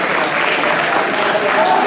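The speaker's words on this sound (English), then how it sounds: "Applause from the fans." Fans applaud at a wrestling event, a steady, dense wash of clapping from a crowd filling the whole moment, with a commentator's voice over it.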